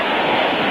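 A football stadium crowd of about 15,000 at a 1987 49ers–Giants game, heard as a brief, dense, steady roar of noise with no distinct voices.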